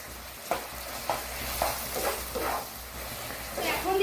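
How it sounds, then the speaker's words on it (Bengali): Hog plum pickle frying in ghee is stirred in a pan, the spoon scraping in a rhythm of several strokes over a steady sizzle, close and moderately loud. "আমি ভালোভাবে নাড়াচাড়া করে নেব"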